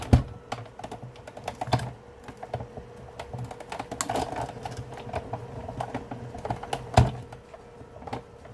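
Paper butterflies being die-cut for a watercolour scrapbook card, heard as a run of close, dry clicks and crisp taps spaced irregularly over several seconds, with a slightly heavier knock near the end.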